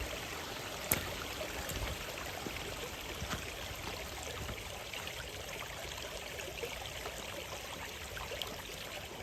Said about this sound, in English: The sounds of these wee streams